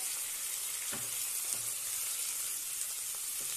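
Tomatoes stir-frying with whole spices in a pan for Amritsari chicken, a steady soft sizzle with a few faint spoon scrapes, close and alone.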